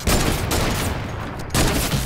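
Sniper gunfire in the video game Fortnite, two loud sharp shot bursts about a second apart with a brief trailing echo, heard alone.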